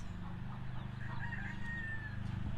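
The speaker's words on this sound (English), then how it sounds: "There's the rooster. You can hear him." A rooster crows once at a distance from a backyard chicken coop, a faint drawn-out call over a low steady background hum.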